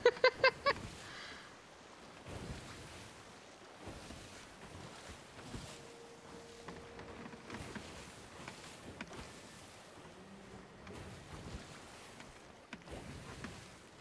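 A sailing ship on the open ocean in the video game Sea of Thieves, with soft wind and water rushing in a faint, steady wash after a few sharp opening clicks.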